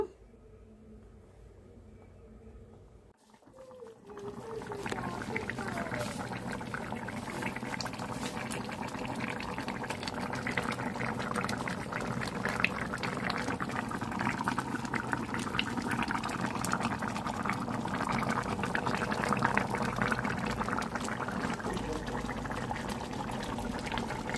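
Fish curry with tamarind broth bubbling steadily in a pot: a continuous dense boiling and simmering hiss that begins after a quieter moment and keeps a level, close, full sound throughout without speech.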